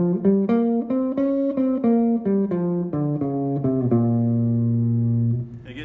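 A major blues scale played as a run of distinct single notes ascending then descending, steady and up close, ending on a long sustained low note.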